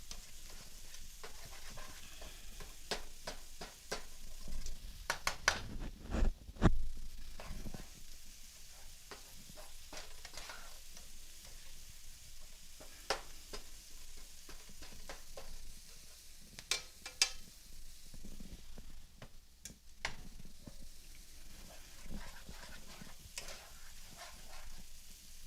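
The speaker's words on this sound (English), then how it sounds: "Our meat's over here cooking, our turkey sausage." Turkey sausage seasoned with chicken seasoning and bacon sizzles steadily in a pan, a faint continuous frying hiss with occasional stirring scrapes and clicks.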